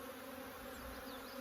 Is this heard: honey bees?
yes